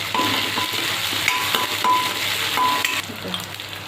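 Ginger garlic paste, green chili and curry leaves fry in a hot pan with a steady, close sizzle and occasional stirring scrapes, no voices.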